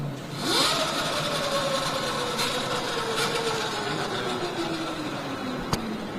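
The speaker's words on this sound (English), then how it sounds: "Just for a quick demo, I can just shift it to park and Governor, turn the throttle a little bit." An electric motorbike, shifted to park, has its throttle turned: the motor whine climbs quickly, then slowly sinks over several seconds, close and steady.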